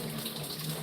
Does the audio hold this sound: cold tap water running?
yes